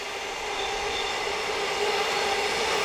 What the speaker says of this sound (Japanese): 列車がどんどんどんどん出ていくんですが